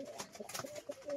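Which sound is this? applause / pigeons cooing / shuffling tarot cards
pigeons cooing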